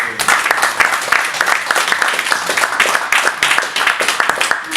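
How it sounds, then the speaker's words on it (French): An audience applauds after a presentation on the Indigenous peoples of Quebec, with loud, close clapping from a fair-sized crowd that keeps a busy, uneven rhythm and shows individual sharp claps standing out. "Alors on va d'abord applaudir pour cette..."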